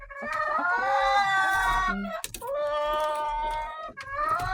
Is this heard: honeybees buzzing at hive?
no